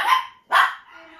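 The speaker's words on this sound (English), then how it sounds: "Oops, there go my dogs." Dogs barking indoors, two sharp, loud barks in quick succession, then a fainter whine.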